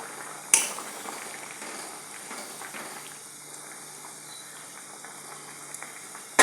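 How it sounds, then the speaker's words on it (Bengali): Potato and bitter gourd curry with slit green chillies simmers in a pot, giving a faint, steady bubbling hiss with one sharp snap near the start and small pops later. "এখন কিছুক্ষণ ফুটতে দেব।"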